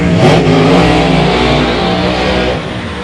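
Supercharged Fox Body Mustang drag cars, one a Vortex-supercharged 1991 Mustang, launch in an X-275 shootout. The engines give a loud, dense roar that fills the whole clip and eases slightly near the end.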